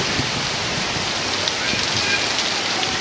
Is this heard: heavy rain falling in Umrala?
yes